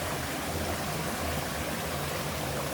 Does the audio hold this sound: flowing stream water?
yes